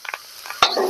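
Chili peppers hit hot oil in a wok with a sudden sharp sizzle after a few light stirring scrapes, the frying hiss continuing loudly and close.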